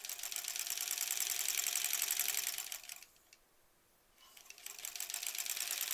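A sewing machine stitches quilt pieces in a fast, steady mechanical chatter, stops briefly for about a second, then resumes stitching at the same close, even pace.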